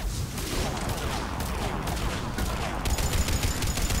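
The Harvester from Mass Effect 3 fires rapid bursts of heavy gunfire, a dense and loud barrage that continues without pause.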